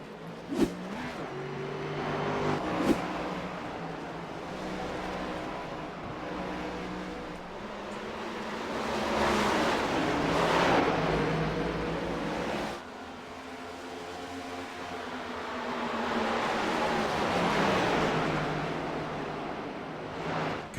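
Race cars lapping the track at Rockingham, with engine noise that swells and fades as cars pass, steady mid-distance drones punctuated by a couple of sharp bursts.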